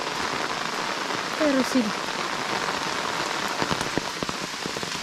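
Steady rain falls on a surface outdoors on a mountain overnight, a dense continuous hiss of drops throughout, with brief quiet talk partway through.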